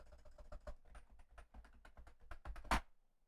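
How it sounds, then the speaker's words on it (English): Computer keyboard keys typed in a quick, irregular run of close taps while a password is entered at a Linux Mint login screen, ending with one louder key press, likely Enter, with no talking. "I'm going to type my password."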